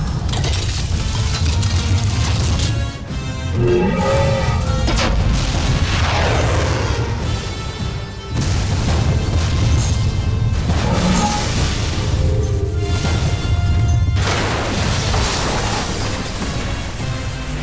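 The Voltes V Legacy robot's bazooka weapon fires as a loud sound effect: mechanical ratcheting and gear clanks build up, then heavy booms and blasts land in repeated bursts over the full stretch.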